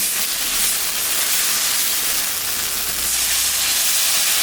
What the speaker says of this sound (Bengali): আমি এখন জল দিই।